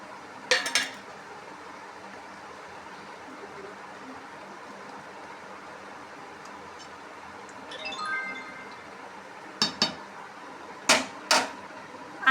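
Fried paneer pieces tip into a simmering, bubbling bhaji in a home kitchen pan, with a few sharp clinks of a metal utensil against the pan over a steady low background.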